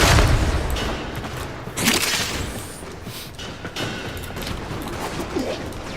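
Space combat in the video game Nightwave, with heavy booms and rattling bursts of gunfire striking a ship, loud and continuous with a sharp impact near the two-second mark.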